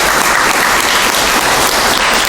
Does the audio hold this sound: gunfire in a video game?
no